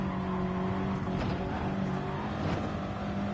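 Race cars brake into the Le Mans chicane on the Daytona road course, engines droning steadily at mid distance with a couple of rising revs and passing swells, no voices.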